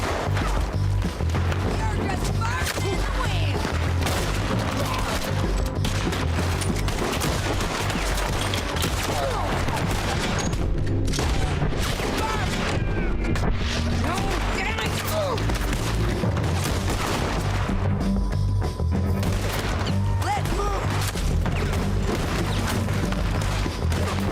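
Gunfire in the video game Red Dead Redemption 2 crackles in rapid scattered volleys and booms throughout, dense and continuous, with someone talking over it at times.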